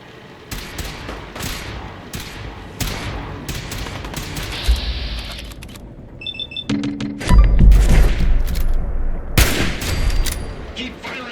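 Gunfire in Fallout 4 aboard the USS Constitution: loud, sharp repeated shots and bursts of rapid fire with booming impacts, mixed with mechanical beeps and game sound effects.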